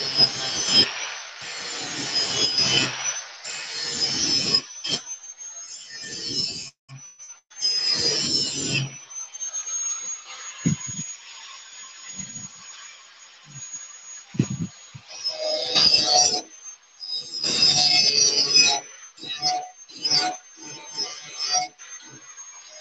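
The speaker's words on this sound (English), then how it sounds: "Leave a note, sharpen your blades." Zero turn mower blades are sharpened on a grinder in bursts of harsh metallic grinding and scraping, loud and close, separated by short pauses and clunks.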